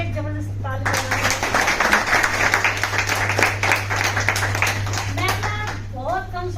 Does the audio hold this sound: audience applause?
yes